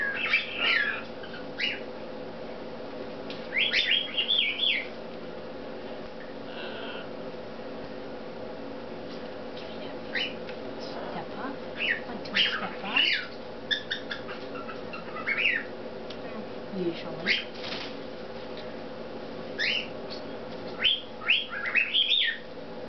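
Hybrid macaws give repeated harsh squawks and shorter chirps and whistles at moderate distance, in irregular bursts over a low steady background hum.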